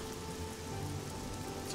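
Steady video game rain sound effects patter and hiss evenly throughout, with no voices.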